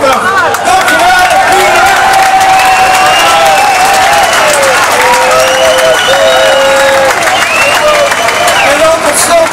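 Loud festival crowd applauding and cheering at the Big Rivers festival, a dense steady wash of clapping with whoops and shouted voices running throughout, close and continuous.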